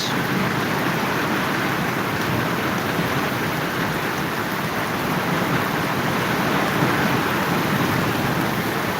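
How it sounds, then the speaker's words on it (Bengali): Heavy Kalbaishakhi storm rain roars steadily and loudly in Dhaka, a dense wash of noise with a low rumble of thunder and wind underneath. "কারণ ঢাকায় চলছে প্রচণ্ড বৃষ্টি এবং বাতাস সেই সাথে চলছে বজ্র"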